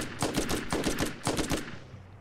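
Rapid bursts of automatic gunfire in the video game Borderlands, several short volleys with brief gaps between them, loud and close with no talking.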